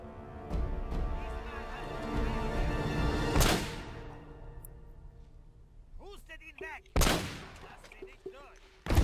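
Bursts of rapid gunfire in the video game Uncharted on PS3 crack out repeatedly, loud and close, with shots and metallic clinks scattered through, as people talk underneath.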